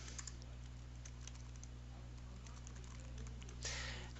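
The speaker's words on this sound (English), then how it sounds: "let's type in something else." Light typing on a computer keyboard during an Azure web development demo, soft scattered key clicks over a steady electrical hum, with a brief louder burst near the end.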